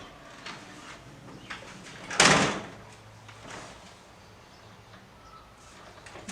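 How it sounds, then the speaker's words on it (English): A door swings open in a home doorway during dog stay training, with one brief loud burst of scraping and rattle midway and quiet rustling and small knocks before and after. "I'm going to open the door"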